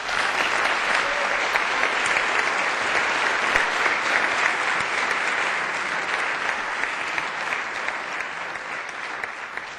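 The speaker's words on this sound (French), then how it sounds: "que je vous demanderai d'applaudir chaleureusement" Warm applause from the audience at a youth democrats tournament final, a dense steady clapping that holds loud and even for the whole stretch and eases off slightly toward the end.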